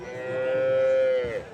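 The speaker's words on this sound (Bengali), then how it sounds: "এরকম অসংখ্য সুন্দর গরু হাটে উঠে থাকে দর্শক" At a cattle market a single cow lets out one long, loud, close moo lasting about a second.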